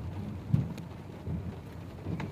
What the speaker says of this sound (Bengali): দেখেন বৃষ্টি হচ্ছে আর দেখতে কত সুন্দর লাগতেছে আবহাওয়াটা বাইরে